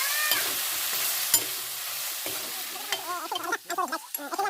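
Cleaned tripe fries in a pan until reddish, with a continuous hissing sizzle and occasional scraping stirs, joined later by wavering tonal sounds in the background.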